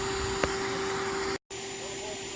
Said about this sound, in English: my wife got to work on the front of the tree with the bee vacuum